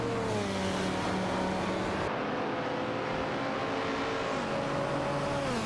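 A Mazda RX-3 GTS and a Shelby GT350 race in a video game, giving a loud continuous engine drone with whining tones that shift in pitch as the cars accelerate and shift. No voices are heard.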